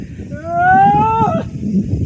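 One loud, drawn-out cow moo rises and holds for about a second, then breaks off, over a low background of outdoor noise.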